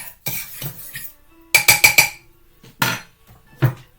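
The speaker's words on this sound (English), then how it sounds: "So I'll just give it one last whisk." A whisk clinks and scrapes against a bowl while stirring a CBD coconut oil infusion, with several separate bursts of rapid clattering strokes and short pauses between them.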